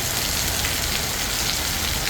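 Heavy, windless monsoon rain pours down steadily on a green area of Bangalore, a dense, even hiss filling the air without a break.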